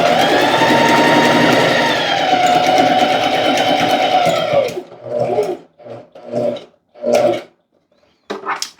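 A sewing machine runs steadily for several seconds, stitching placemat fabric up close, then stops; afterward come a few short bursts of handling and fabric rustle.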